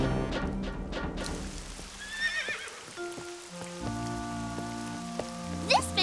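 A loud horse whinny rings out near the start over steady rainfall, followed by a few hoof clops and low music-like tones.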